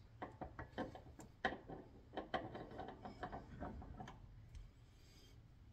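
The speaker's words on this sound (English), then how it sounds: "now what I'm going to do is I'm going to put this inside the vise" Crimping tool being set and clamped into a bench vise, a run of close, quiet metallic knocks and ratcheting clicks in an irregular rhythm, tapering off into faint rustling.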